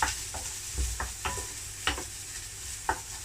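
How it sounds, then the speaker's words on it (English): Leek and shallot cooking in a pan make a soft, quiet sizzle broken by several sharp utensil scrapes and taps spaced irregularly, with no talking. "I like the leek a bit softer, so I put the leek and the shallot in first."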